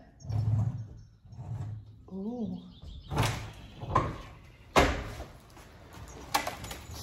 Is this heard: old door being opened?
yes